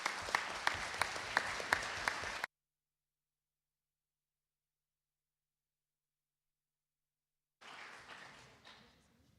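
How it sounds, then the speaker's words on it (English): Audience applause at a conference opening ceremony, starting with a loud burst of rhythmic clapping that cuts off abruptly into silence, then a softer stretch of clapping returning near the end. "But still, a big round of applause,"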